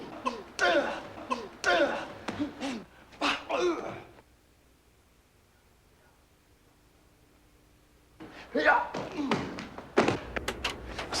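Film fight-scene sound effects play back as a rapid flurry of punchy thuds, slaps and grunts, breaking off into a few seconds of near silence before another dense burst of hits and impacts.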